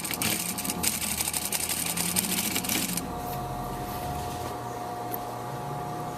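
A sewing machine runs steadily, stitching across fabric for a prom bow tie with a fast, even whirring buzz for about three seconds, then stops, leaving a quieter room hum.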